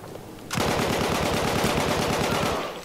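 Sustained rapid automatic gunfire in Battlefield 1, a loud close burst of evenly spaced shots starting abruptly after a short quiet lead-in and running to the end.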